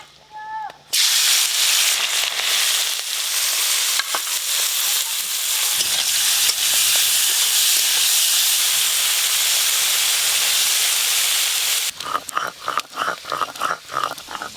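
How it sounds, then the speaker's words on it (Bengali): Prawns fry in very hot oil in a rustic village kitchen, a loud, close, sustained sizzling hiss that begins abruptly after a brief voice, then gives way near the end to crackling pops and stirring. "তেল খুব ভালো করে গরম হয়ে গেছে। প্রথমে চিংড়ি মাছগুলো ভাজবো।"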